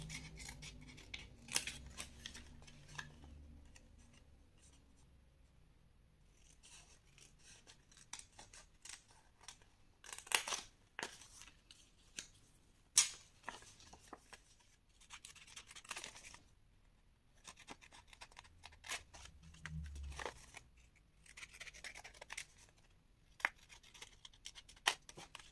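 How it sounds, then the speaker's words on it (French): Scissors snip through scrapbooking paper at a slight angle while making an advent calendar box, with close, crisp cuts in irregular bursts, some sharp and loud, separated by quiet gaps. "vous pouvez couper aussi légèrement en biais."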